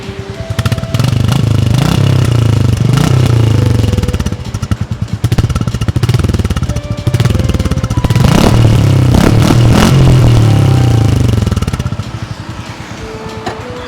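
A 2023 Royal Enfield Bullet 350 single-cylinder engine thumps loudly and close, its exhaust rising through several throttle blips and revs, then falling back to a steady idle.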